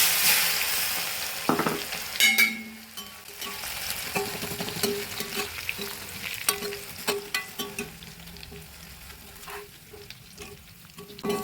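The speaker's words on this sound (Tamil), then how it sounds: "இப்போ அதோடு சேர்த்து தான் நம்ம வறுத்து எடுக்க போகிறோம். அதையும் எண்ணெயில் சேர்த்துக்கணும்." Kara boondi sizzling and crackling in hot oil, a steady close frying hiss with occasional stirring clinks and scrapes, no voices.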